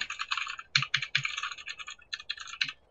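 Computer keyboard typing, close and fairly loud, with rapid bursts of clicking keystrokes and brief pauses between runs, heard alone without talk.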